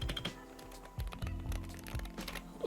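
Keystrokes on a Wooting 80HE keyboard with Gateron switches, muted and clicky, come in an uneven burst of close, quiet taps.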